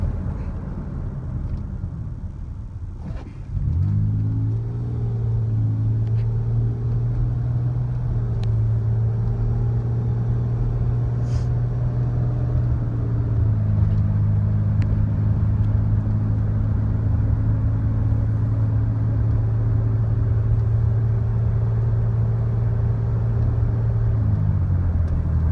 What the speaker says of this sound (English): Just wanted to kind of accelerate a little bit to show you, but you brake again really hard.